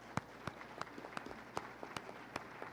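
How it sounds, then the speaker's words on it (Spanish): A small audience at a business and human rights forum gives the panelists scattered, sparse applause, a few distinct claps at a faint, distant level. "quisiera pedirle a todos los asistentes un aplauso para los"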